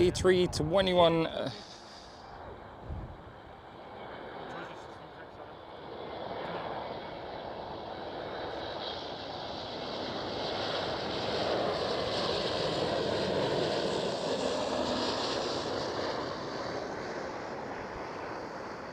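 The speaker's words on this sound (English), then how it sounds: "Air Transat A321." An Air Transat A321 airliner at Amsterdam Schiphol roars steadily with broadband jet noise that swells toward the middle and holds. A brief burst of nearby talk and handling noise comes at the start.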